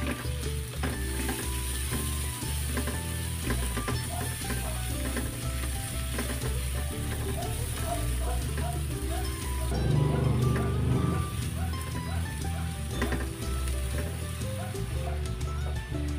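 Onions sautéing in a pan for pork estofado, a steady close sizzle and crackle with brief stirring scrapes, loudest in a short burst partway through, over a quiet kitchen background.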